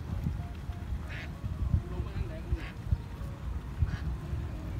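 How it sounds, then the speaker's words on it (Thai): Ducks along the Mekong riverbank in Nakhon Phanom, Thailand, give short repeated quacks over a busy outdoor background with someone talking nearby. "เป็ดลงมาแล้วเป็ดลงโคก"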